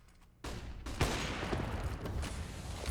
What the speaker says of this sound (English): Breeze back at it again with the AWP. Eliminates one